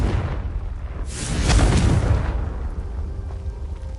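A Confringo explosive spell in Hogwarts Legacy goes off as one loud, deep blast that swells and rumbles for about a second, then fades into a low background hum.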